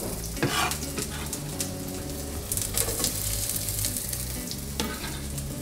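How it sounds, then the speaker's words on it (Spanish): Loud, steady sizzling of food frying in hot oil in a pan, crackling and popping throughout, with occasional stirring clatter, close up. "Sartén, aceite caliente."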